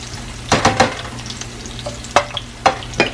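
Callaloo greens frying in a pan with a steady low sizzle and sharp clattering stirs, several bursts near the start and more toward the end.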